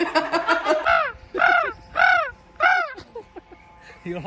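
Several crows caw loudly nearby on the North Wales coast, a quick cluster of calls followed by slower, spaced harsh caws.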